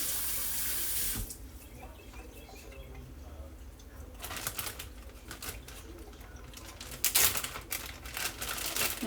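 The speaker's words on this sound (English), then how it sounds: "I gotta rinse my hands off." Tap water runs and splashes as hands are rinsed at a kitchen sink during potato salad preparation, with a steady wash that swells louder in bursts toward the end, close by with no talking.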